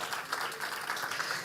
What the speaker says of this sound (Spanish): Den un aplauso a nuestro maravilloso Señor.